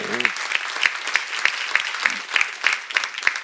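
A church congregation claps in a steady, even rhythm, about three claps a second, close and moderately loud, with a brief voice at the very start.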